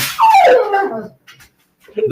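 A dog yelps after being kicked underfoot, a sharp high cry sliding down into a whimper, then a brief pause before another short yip close to the microphone.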